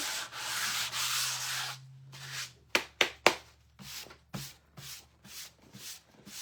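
Sandpaper scrubs across a 4 ft wooden nativity porch leaner: long steady rubbing strokes, then a few sharp knocks and a run of shorter, rhythmic back-and-forth passes, close and distinct.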